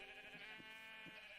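Sheep in a Minecraft sheep farm give repeated bleats, a few short cries spread across the moment, faint and alone with no talk.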